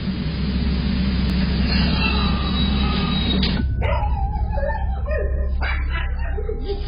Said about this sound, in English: causing the dog to bark uncontrollably